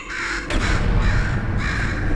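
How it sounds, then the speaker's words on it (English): A crow caws in the video game Portal 2, loud and near: rough repeated caws overlapping across about two seconds, with no speech. "Could you, murder this bird for me?"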